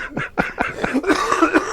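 A person coughs several times in quick succession, harsh rasping bursts close by, trailing into a throaty, strained sound.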